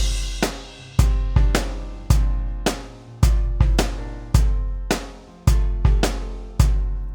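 An acoustic drum part generated in EZdrummer 3 plays a loud, steady groove of punchy kick and snare hits, each ringing out before the next, with no voices.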